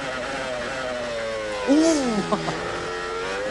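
Formula 1 cars racing at the 2005 Bahrain Grand Prix, with a steady engine drone and a car's rising, then falling whine passing close by, heard under commentary.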